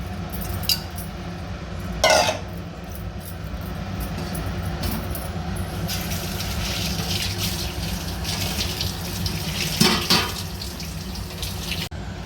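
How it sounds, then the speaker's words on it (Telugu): Tamarind water poured from a dish into a simmering potato curry, a steady splashing gush running throughout with a couple of brief louder splashes, close and alone. "మగ్గిన తర్వాత మనం చింతపండు రసం వేసుకోవాలి."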